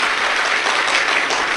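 Dense crowd applause at a Shiv Mahapuran religious discourse gathering, a loud steady wash of clapping with no gaps.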